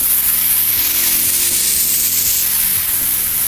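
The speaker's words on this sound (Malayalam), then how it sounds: "ഞാൻ അര സ്പൂൺ നെയ്യും കൂടി ചേർത്ത് കൊടുക്കുന്നുണ്ട്. നന്നായിട്ടൊന്ന് വഴറ്റിയെടുക്കാം." Ghee sizzles steadily in a pan while food is sautéed, a dense continuous hiss with a low hum underneath, close and fairly loud with no pauses.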